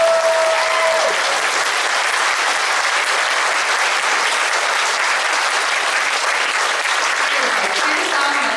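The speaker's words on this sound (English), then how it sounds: "can you give them a big round of applause?" Sustained audience applause for a fifth grade school band concert, a dense steady clapping crowd filling the room from start to finish without a break.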